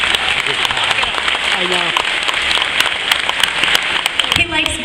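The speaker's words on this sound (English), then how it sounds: "give a round of applause" Audience applause at a graduation speech, a steady wash of clapping filling the hall throughout, with a voice briefly speaking over it near the end.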